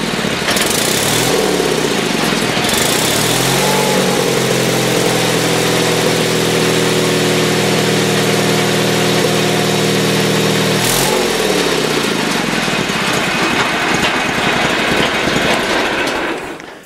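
A Sears Suburban SS16 snowblower engine, cold, fires up after a few cranks and settles into a loud, steady running drone, briefly dipping and picking back up near the middle, with no talking.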